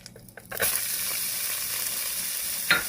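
Onions and peppers sizzle steadily in a hot pan alongside seared shrimp, a continuous loud frying hiss that begins after about half a second, with a brief stirring clatter near the end.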